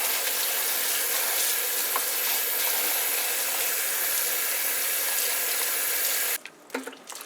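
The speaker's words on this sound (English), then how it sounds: "first thing, we're going to wash our bhaji." Sijan bhaji leaves are washed under a steady gush of running water from a tap, loud and continuous, before the flow stops near the end, leaving a few faint drips and handling sounds.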